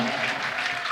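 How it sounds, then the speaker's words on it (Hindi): Audience applause at a Jain religious sermon in Golganj, Chhindwara: dense, steady clapping from a crowd, fairly loud and continuous throughout the short moment, with no clear speech over it. "आप ताली बंद कर लो"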